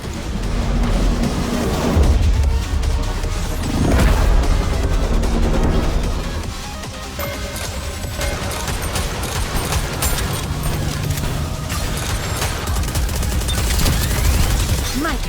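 Continuous heavy gunfire from a Goddess of Victory Nikke battle, with Snow White firing at the core, a dense, unbroken barrage of shots and blasts layered over game music for the whole stretch.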